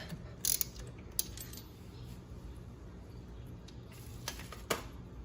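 Ratchet wrench loosening the spark plug on a Venom x22 125cc motorcycle, with a 5/8 spark plug socket: a few faint clicks and short metallic ticks over low background rumble, quiet and close.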